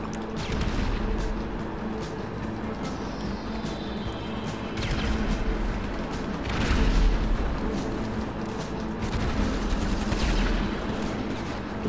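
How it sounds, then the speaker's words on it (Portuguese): Sniper gunfire in GTA V Online during a deathmatch at a biological laboratory, dense booming shots and crashes over a continuous roar of game noise, with louder bursts near the middle and end. "Também tiro de sniper"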